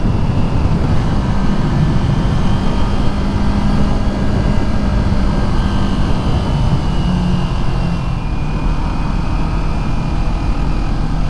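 A 2023 Kawasaki Ninja 400 engine runs at full throttle as a continuous loud drone with a steady tone, the pitch shifting slightly as the bike climbs.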